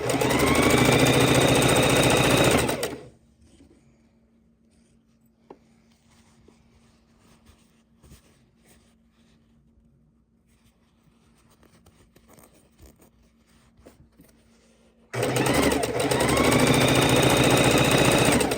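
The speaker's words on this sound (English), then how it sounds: "Sewing on 1/4 inch seams." A sewing machine stitches quilt fabric with quarter-inch seams, a rapid, fairly quiet mechanical patter running steadily for about twelve seconds between louder broadband noise at the start and end.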